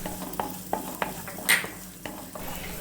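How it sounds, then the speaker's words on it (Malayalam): Chopped shallots going into a pan for Bhutanese egg ema datshi: a steady low sizzle broken by sharp spoon taps and scrapes as they are stirred, close and moderately loud. "ഇത് 2-3 കഷ്ണം ചെറിയ ഉള്ളിയാണ്, അതും കൂടി ഞാൻ അരിഞ്ഞെടുത്തിട്ടുണ്ട്, അതും കൂടി നമുക്ക് ഇതിലേക്ക് ഇട്ട് കൊടുക്കാം."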